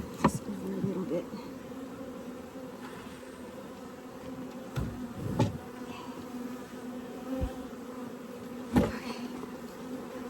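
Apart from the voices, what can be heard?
honey bees buzzing around a Layens swarm trap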